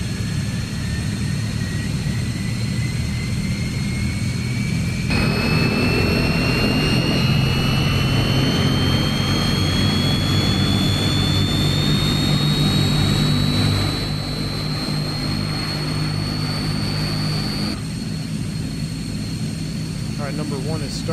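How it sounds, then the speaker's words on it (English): The turboprop engines of a C-160 Transall start up with a rising whine that climbs steadily over a constant deep propeller drone, heard loud from the cockpit with voices talking underneath. "All right, we have two good engine starts."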